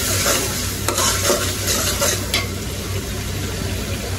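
A paste of garlic, onion and spices fries in a pan, a continuous close sizzle with repeated stirring and scraping strokes of a spoon across the pan, and no talking.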